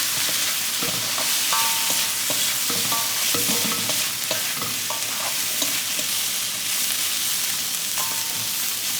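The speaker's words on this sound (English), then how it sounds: "Fry it for a bit, add some soy sauce, add some salt, and then just mix it around." Fried liver stirred with soy sauce in a hot pan, a constant close sizzle with repeated spatula scrapes and clicks through the whole stretch.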